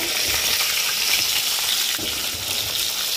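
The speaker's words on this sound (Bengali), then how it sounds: "মাছগুলো এই চুলাইতে দিয়ে দিচ্ছি। তো মাছগুলো একটু কড়া করে ভাজবো" Fish fry crisply in hot oil in a pan on the stove, a loud, dense and continuous sizzle heard up close with no voices.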